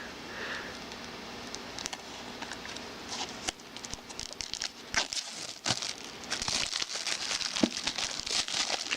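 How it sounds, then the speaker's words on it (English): Plastic wrap is cut into and pulled from an anime box set, giving close, continuous crinkling and rustling with scattered sharp crackles and snaps that grow busier toward the end. "And let's go ahead and cut into the plastic."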